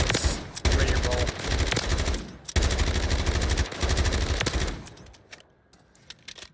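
A video game LMG with a 60-round magazine fires in long, rapid automatic bursts, loud and close, with two brief pauses before the shooting stops and fades into quieter game sounds.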